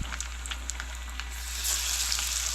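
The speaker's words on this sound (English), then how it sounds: "So here we're just dipping it into the batter and then into the panko and then into our hot oil." Battered, panko-coated humuhumu fish fillets sizzle and crackle in hot oil, a steady bubbling hiss that swells louder partway through, close up with no voices.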